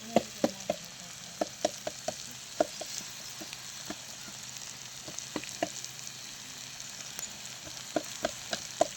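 Vegetables sizzle in a pan with chili and crushed peanuts while a spoon stirs and scrapes them. The stirring gives repeated sharp clinks and scrapes over a soft, steady frying hiss.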